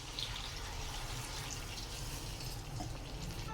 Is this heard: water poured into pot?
yes